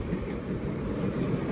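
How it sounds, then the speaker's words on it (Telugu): The Prashanti Express passes on the adjacent track, a loud, close, continuous rolling rumble of railway wagons with no talk over it. "ఇదిగో మీ ప్రశాంతి ఎక్స్ప్రెస్."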